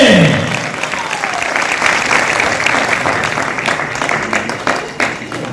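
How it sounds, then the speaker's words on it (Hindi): Loud, sustained applause from an audience at a business-plan meeting fills the whole stretch, dense and steady with scattered sharper claps toward the end. "जोरदार ताली"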